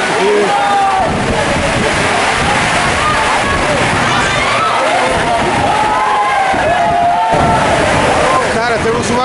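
Heavy rain pours down on a football stadium during a Copa Paulista match, a loud, dense, continuous roar with someone talking excitedly over it.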